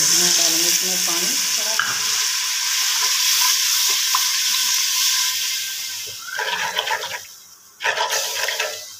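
Water poured into a hot cooking pan of pumpkin and chana dal makes a loud, continuous hissing sizzle that gradually fades, followed by stirring scrapes and a renewed burst of sizzling.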